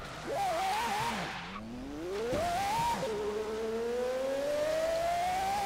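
A car engine revs and echoes inside a tunnel in Forza Horizon 3, rising and falling through gear changes before settling into a long, climbing, resonant drone, moderately loud with no talk.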